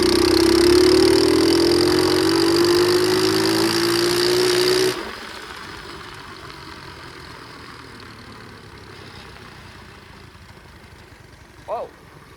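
A 2004 Flywing pit bike engine on a ride revs loudly with a steadily rising pitch for several seconds, then cuts off abruptly into a low rumbling idle and wind noise, with one brief sharp noise near the end.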